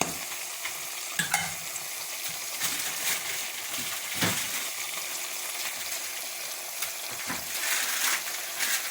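Sweet onions soften in a frying pan for a tomato and onion stew, with a steady close sizzle and occasional stirring scrapes at moderate loudness.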